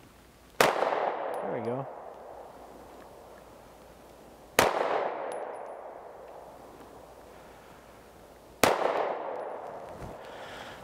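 Three sharp, loud 9mm pistol shots from a BRG 9 Elite ring out a few seconds apart during an accuracy test outdoors, each followed by a decaying echo, with a brief spoken comment near the end.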